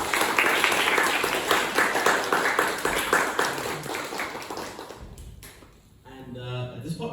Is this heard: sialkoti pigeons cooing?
no